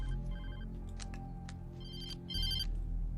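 A phone ringtone plays in a video game as an unknown caller rings, with a repeating electronic melody of bright tones over a low steady hum.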